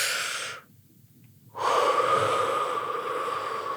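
During a breathing exercise, a breath is pushed out, then after a brief pause comes a long, deep, close-up inhale of airy rushing breath that holds steady to the end.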